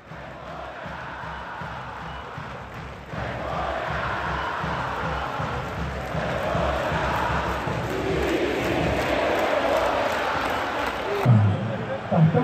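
Vitória football supporters protest in the stadium during a match against Atlético GO, a broad, steady crowd roar that swells after a few seconds and stays loud, with a voice talking over it.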